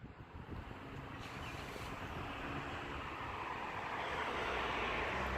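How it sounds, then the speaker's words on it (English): Road noise inside a moving vehicle while driving, a steady low rumble with broadband rush that gradually builds, heard alone without talk. "Sorry about the road noise"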